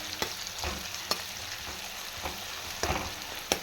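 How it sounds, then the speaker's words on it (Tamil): Onions for fish curry sauté in a pan with a faint, even sizzle, punctuated by a few light clicks and scrapes of stirring. "வெங்காயத்தை நல்லா வந்து வதக்கி விட்டுக்கலாம்."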